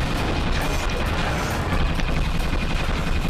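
In the video game Ratchet and Clank 2, a deployed mini turret fires in rapid, continuous bursts, producing a dense, loud clatter of gunfire mixed with metallic crashes and mechanical rattling.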